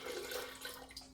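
Water pours steadily into a kitchen blender for about a second, a close splashing, trickling rush with no voices.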